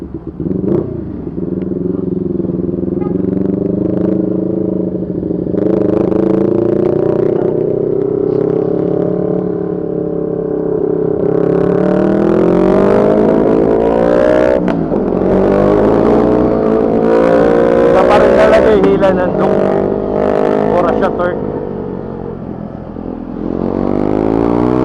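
A CF Moto NK400 V4 motorcycle engine roars loud and close on a test ride, its drone climbing steadily in pitch through repeated accelerations with gear-change dips and a gritty, buzzing edge at higher revs.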